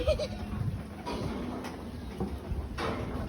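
Sheep bleating at a family natural hot spring, a few short rough calls close by against steady outdoor background noise.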